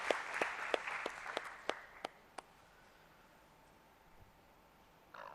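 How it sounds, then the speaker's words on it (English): Audience at an annual forecast event applauding a speaker, a few sharp distinct claps over a brief soft patter that fades out within about two seconds, leaving quiet room tone and a faint thump near the end. "Can we have a warm applause, round of applause for Mr."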